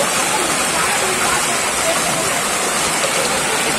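Floodwater from an overflowing pond pours out onto a road in Tifra, Bilaspur. It makes a loud, continuous broadband roar and rush like a waterfall, steady throughout and close by.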